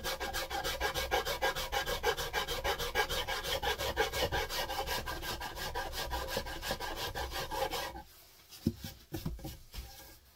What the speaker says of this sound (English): I've done that with a Shinto rasp